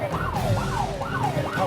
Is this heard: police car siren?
yes